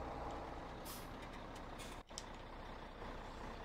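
A heavy haul truck in Farming Simulator 17 idles with a steady engine drone, giving a sharp hiss of air brakes near the middle and faint beeping, with no talk.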